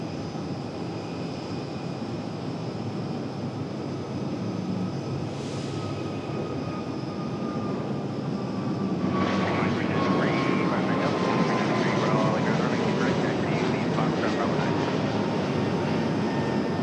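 A jet airliner departing Raleigh-Durham International Airport in the evening, a steady broadband engine roar that swells noticeably louder partway through and holds, heard from a distance with faint talk in the background.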